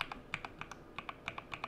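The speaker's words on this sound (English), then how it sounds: "this custom keyboard with this great thonky sound" Keys on a custom split mechanical keyboard clack in a quick, fairly regular typing rhythm with a deep thonky tone, close-up and fairly quiet, with no speech.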